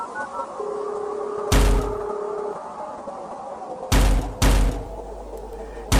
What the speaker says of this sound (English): Someone is trying to smash down my door.